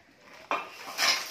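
Dishes and pots clatter in two sharp bursts, a metallic clang followed by a brighter rattle of cookware, close and moderately loud.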